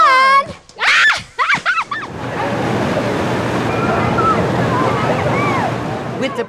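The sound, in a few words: water starting to flow at Dolly's Splash Country water park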